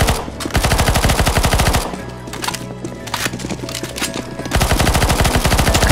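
Rapid automatic gunfire in CS:GO Zombies, loud and sustained bursts at the start and end, with a lower, busier stretch of shooting and game noise in between.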